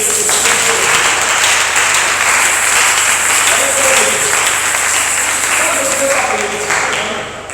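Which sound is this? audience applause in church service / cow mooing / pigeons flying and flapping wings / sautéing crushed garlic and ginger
audience applause in church service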